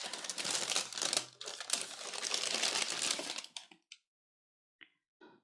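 Makeup product packaging crinkles and tears open in a dense, busy burst for several seconds, then a few short isolated crackles follow after near silence; no talking.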